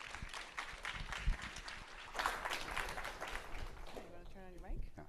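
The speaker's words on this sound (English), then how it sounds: "round of applause for our first presenter." Faint scattered applause at a symposium greets the first presenter, a light patter of clapping heard from a distance, with a voice speaking near the end.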